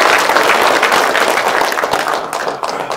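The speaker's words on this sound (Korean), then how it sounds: "큰 박수 부탁드리겠습니다." Loud, close applause from the audience at a press conference, a thick continuous burst of clapping that carries on without let-up through the whole stretch.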